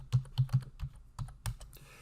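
Keystrokes on a computer keyboard entering a command in AutoCAD, a quick run of about seven distinct taps at close range with uneven spacing and no talking.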